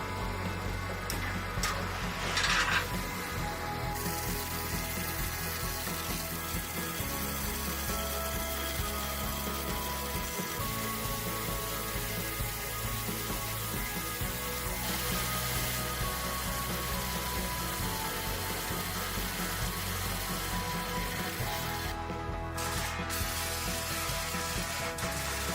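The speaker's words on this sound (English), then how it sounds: "A stream of cooling foam surrounds the blade, reducing heat buildup and preventing micro cracks in the metal as the saw slices steadily through the hardened steel" An industrial saw bathed in cooling foam slicing steadily through hardened spring steel in a heavy-duty spring factory, a continuous grinding, ticking hum with faint sizzling, even in level and unbroken, no voices.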